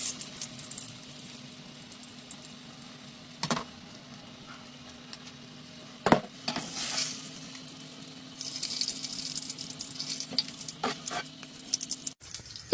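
Potato chapli kababs fry in a hot pan of oil with a soft, steady sizzle and patter, broken by a few sharp clinks and scrapes as the pieces are turned and lifted out.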